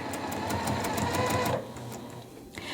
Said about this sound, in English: when we're sewing right here